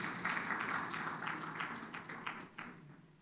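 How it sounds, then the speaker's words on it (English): Audience applause at a Ghanaian business summit, a steady wash of many hands clapping that holds for a few seconds, moderately loud and fading slightly toward the end. "Oh, you want to clap for Fidelity?"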